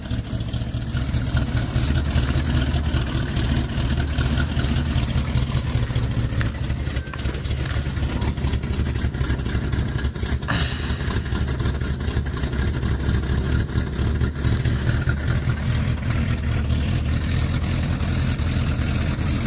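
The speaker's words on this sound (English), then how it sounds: "You can hear the cam a little bit running at idle." A 1987 Ford F-150 with dual exhaust idling and the cam faintly audible; a loud, steady, low rumble with a slight lope runs unbroken throughout, with no talk.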